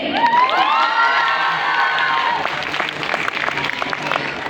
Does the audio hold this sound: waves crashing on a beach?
no